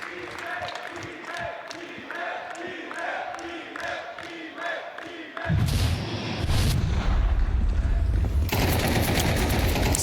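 Rapid gunfire bursts in a Counter-Strike 2 match at the StarLadder Budapest Major, an MP9 submachine gun in close-range fighting, repeated sharp shots with heavy explosive booms and crowd noise over shouted commentary.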